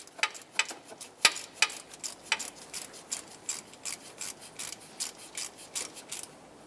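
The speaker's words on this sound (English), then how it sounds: "I'll snug it with my ratchet." A ratchet snugs a bolt on a 2014-2021 Mazda 6 during a crankshaft position sensor replacement, giving a close series of quick rasping clicks in short, even strokes, with no talking.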